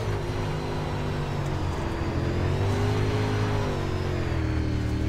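A race car engine in the iRacing simulator at Lanier drones steadily at high revs, a loud continuous whine with slight pitch swells through corners, heard alone without talk.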